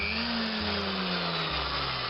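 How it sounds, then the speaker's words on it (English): A small power drill whines continuously up close as it bores out the window of a diecast model farm vehicle, its motor pitch shifting slightly as the bit bites into the metal. "And here I'm drilling the window out."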